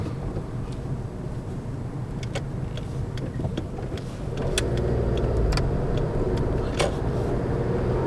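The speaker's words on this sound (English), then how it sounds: "you can clearly hear the indicator being switched on" A car's turn indicator ticks in a regular, fairly quiet rhythm over a steady engine and road rumble inside the vehicle, heard through a dash cam's microphone.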